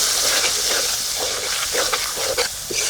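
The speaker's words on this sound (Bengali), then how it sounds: "ভালো করে মশলাটা কষে নেব।" Masala with tomato paste frying in a pan, a loud close hiss and sizzle with intermittent sharp spatters and stirring scrapes. No one speaks.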